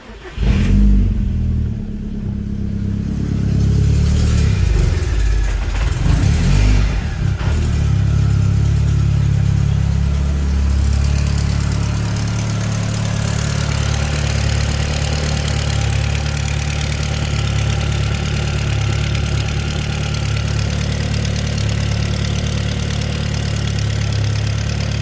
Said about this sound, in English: I'm gonna start it up and see if we have any exhaust leaks